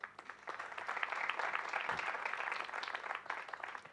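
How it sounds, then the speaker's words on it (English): Faint, moderate applause from an audience at a lecture-demonstration on the Carnatic flute, honoring flute makers; a steady patter of clapping in a room. "A great applause to flute makers."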